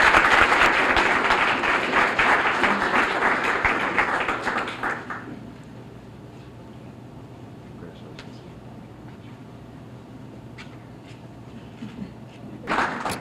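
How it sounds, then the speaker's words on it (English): A police awards ceremony audience applauds for about five seconds, a dense burst of clapping that then drops to quiet room tone with a few scattered taps before a brief return of sound at the end. "Let's give Lisa a round of applause."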